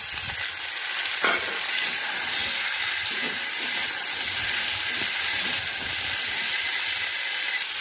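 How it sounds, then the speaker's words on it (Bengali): Chopped tomatoes frying in a pan alongside vegetable stems: a continuous close hiss and sizzle with steam, punctuated by a sharp clatter early on and soft stirring scrapes throughout, no voices. "ভালো করে ভেজে নেব। এখানে দিয়ে দিচ্ছি টমেটো কুচি।"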